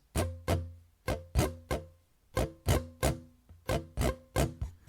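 Steady down-up strumming on an acoustic guitar for the intro, each chord struck in sharp pairs of bright strokes, close and clear with short gaps between, no talking.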